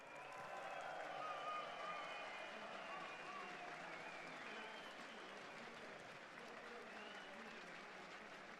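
A large crowd in Finland applauds and cheers steadily throughout a CS:GO grand final, a dense wash of clapping heard from a distance.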